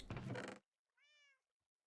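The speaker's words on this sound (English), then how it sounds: "That's my cat in my apartment that's above my head." A cat meows once from an apartment upstairs, a short tonal harmonic call heard alone in a quiet room, following a burst of louder broadband noise at the start.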